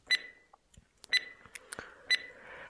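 A timer beeps three times at roughly one-second intervals, sharp bright tones up close, with faint clicks and rustles in between.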